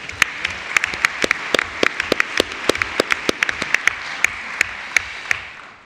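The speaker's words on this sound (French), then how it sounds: "Je vous propose de l'applaudir." Applause from an audience at a formal ceremony honouring a newly named Legion of Honour knight, a dense steady wash of clapping with sharp individual claps standing out, fairly close, with no speech over it.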